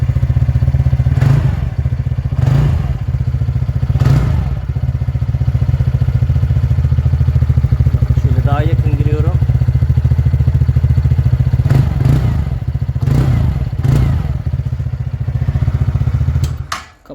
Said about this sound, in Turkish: Hazır çalıştırmışken size egzozu dinleteyim.